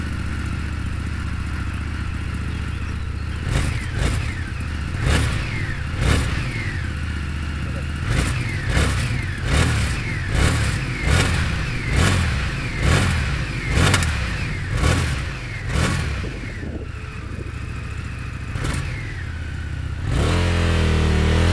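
A 2021/2022 FTR 1200 R Carbon, an American muscle-style motorcycle, idles, then gets a long run of about a dozen sharp throttle blips. Each rev climbs and falls back close by, before the engine settles into a louder, rougher run at the end.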